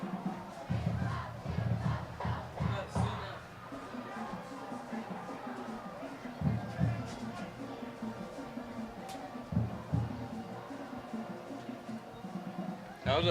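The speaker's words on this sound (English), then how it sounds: "You can really hear the crowd get back into this one." Crowd at a varsity high school football game between Wilsonville and South Medford, roaring and cheering after a big defensive stop, a sustained rising and falling wash of voices under play-by-play commentary.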